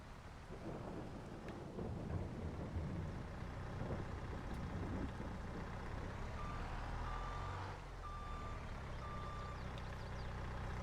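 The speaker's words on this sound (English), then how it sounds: "Now, let's pull the truck over." A truck in Farming Simulator 22's Silverrun Forest rumbles steadily while its reversing alarm starts up partway through, sounding a series of evenly spaced beeps over the engine.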